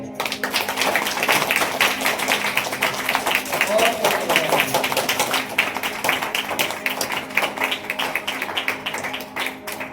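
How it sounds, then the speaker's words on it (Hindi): A church congregation claps loudly together at a Sunday worship service, a dense, continuous run of hand claps with a low musical drone beneath and a voice briefly over it. "एक बार जोर से ताली बजाएंगे।"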